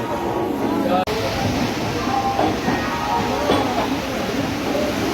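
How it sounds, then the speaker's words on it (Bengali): The Kamrup Express rumbles steadily from inside the carriage as it departs Howrah Station in heavy rain, broadband noise with faint clacking and rising tones as it gets moving, a loud bang near the start. "হাওড়া স্টেশন ছাড়ছে আমাদের ট্রেন"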